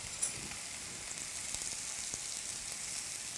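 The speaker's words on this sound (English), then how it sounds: "just dump those zoodles right in with the onions" Zucchini noodles sizzle in a hot pan with sautéing onions, a steady soft hiss of frying that stays even and fairly quiet throughout, with no voices.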